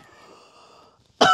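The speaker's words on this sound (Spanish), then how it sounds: "Me hace toser." A faint wheezy, rasping breath, a brief pause, then one sudden loud smoker's cough close to the microphone.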